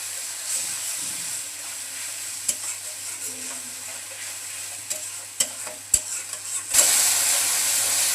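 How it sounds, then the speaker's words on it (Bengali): Chili and coriander powder paste frying in oil while being stirred for a fish curry with gati kochu taro, giving a steady soft sizzle with scraping spoon strokes and a hissing surge near the end. "এখন মশলাটাকে ভালোভাবে কষিয়ে নেব"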